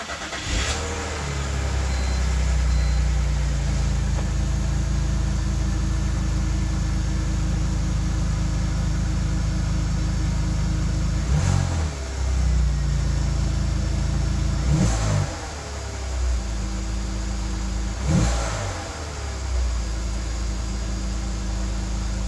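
A BMW E46 330i engine starts and runs steadily after a fuel pump replacement, with a few brief revs and bumps in the rumble; no talking.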